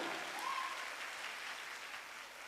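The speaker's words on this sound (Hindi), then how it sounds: "एक बार जबरदस्त ताली होनी चाहिए सर" An audience at a business seminar claps in a dense, steady wash of applause that holds for a couple of seconds and eases off slightly toward the end.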